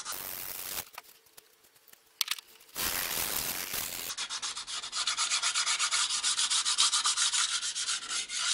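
Old gasket scraps being rubbed off a Renault Logan cylinder block with light strokes, loud close scraping in bursts, then a long steady stretch of rapid rhythmic rubbing.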